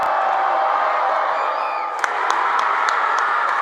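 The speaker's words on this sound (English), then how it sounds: "I'll let you listen to the crowd." High school basketball crowd in a gym during a tied game at the free-throw line, a steady loud roar of voices and cheering with scattered sharp shouts and whoops rising near the end.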